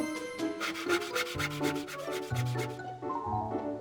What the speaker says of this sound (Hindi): लकड़ी काटने की आरी बन जाओ।